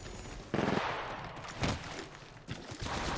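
Video game gunfire comes in rapid bursts and automatic volleys, loud and dense with brief pauses between strings of shots, and no voices.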